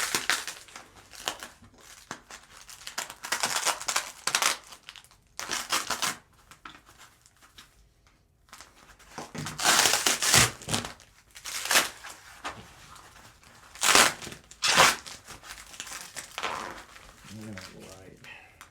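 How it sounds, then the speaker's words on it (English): Foam paper wrapping is pulled and crumpled off an acrylic print in irregular rustling, crinkling bursts, close and fairly loud, with quiet pauses between handlings. "the print is additionally wrapped with this foam paper stuff here"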